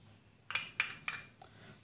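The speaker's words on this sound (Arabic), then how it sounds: "نخلط الكل جيدا كما ذكرت للحصول على خليط متجانس" A spoon clinks three quick times against a small bowl while stirring a mixture of oat powder and turmeric, the light metallic taps close and crisp in a quiet room.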